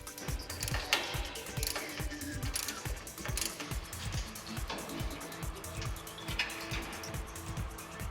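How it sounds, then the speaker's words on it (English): A ratchet wrench takes out the lower bolts on the post of a Twin Busch TW 250/260 Heavy-Line two-post car lift, making rapid, even metallic clicking with a few faint clanks in the workshop. "Now the lower bolts can be taken out as well."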